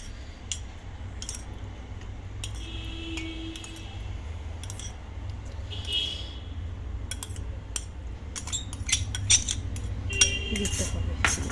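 A spoon spreads a mixture in a bowl while chicken wings are cooked. Scattered light metallic clinks and scrapes come at an irregular pace against a low background hum.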